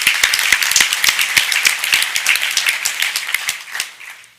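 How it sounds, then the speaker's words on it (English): An audience at an employee ownership conference claps steadily, a dense burst of applause that holds for a few seconds and then tapers off. "Let's give them a round of applause."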